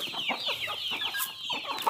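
Chickens cluck in a busy, overlapping chorus as they are fed corn on a farm, steady and fairly close, with no voices over them.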